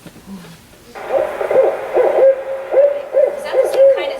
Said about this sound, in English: A barred owl?